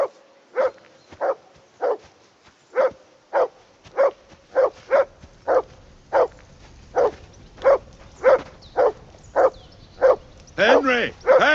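A dog in Kingdom Come Deliverance 2 barks in a steady series of single sharp barks, about fifteen of them. The barks are evenly spaced and close, and they end in a quick flurry of whimpering yips.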